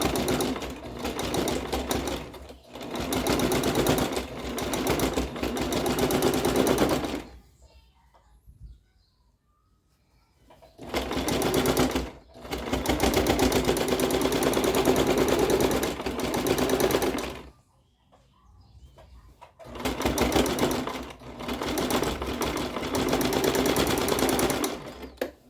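A sewing machine stitching the border of a pink rug whirs loudly and close in three long continuous runs, separated by brief quiet pauses.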